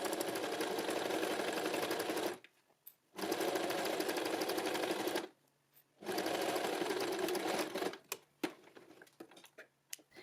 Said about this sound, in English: and then sew to the end.